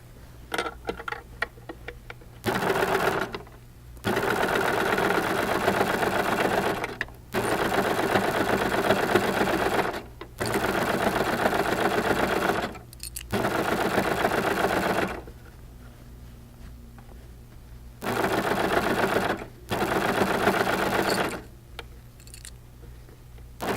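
A Baby Lock serger stitches fabric for a pillow in several steady, rapid bursts of mechanical whirring. Short silent pauses separate the bursts, and no one speaks.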